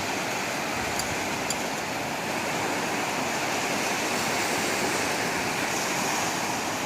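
Steady roar of ocean surf washing onto Cha-am Beach in Thailand, continuous broadband rush with no pauses, fairly loud and close, no voices.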